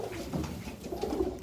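A white pigeon coos softly and close by in a short, low, rounded burst.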